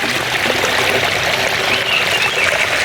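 Irrigation water gushes steadily from an opened PVC pipe fed from a pond, watering a shallot bed; a continuous, loud rushing flow with no talk over it.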